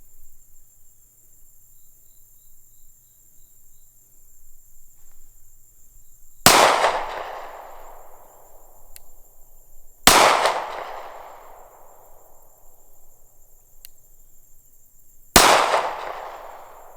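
Three well-spaced gunshots from a Sig P365XL subcompact handgun fired at 70 yards, each a sharp crack with a decaying outdoor echo, over a steady faint high insect-like hiss.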